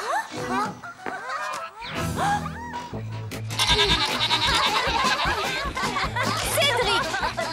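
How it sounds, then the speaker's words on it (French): A goat in a cartoon bleating loudly and repeatedly, mixed with honking, animated effects and music. "Mais mademoiselle, c'est Cédric, il est avec une chèvre."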